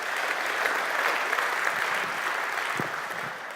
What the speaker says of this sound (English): Your applause for Hans.